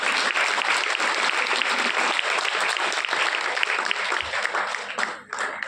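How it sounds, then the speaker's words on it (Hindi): Loud, sustained applause from an audience at a live sales-training roleplay session, many hands clapping vigorously without pause before tapering slightly at the end. "एक बार पूरी टीम के लिए जोरदार तालियां, जोरदार तालियां।"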